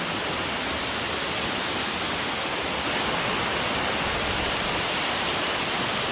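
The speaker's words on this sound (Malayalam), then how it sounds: "ഇതാണ് നമ്മൾ പറഞ്ഞ വെള്ളച്ചാട്ടം." Manalar waterfall pouring from a height, a steady, dense roar of falling water that fills the whole clip without a break, close and loud with no voices.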